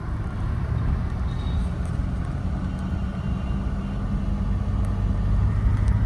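A car rolling slowly in first gear under light throttle gives a low, steady rumble of engine and road noise, heard from inside the cabin with no talking.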